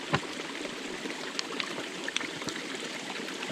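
A small spring trickles and burbles along the Appalachian Trail in Maryland, a soft, continuous wash of running water with occasional brief drips and splashes close by.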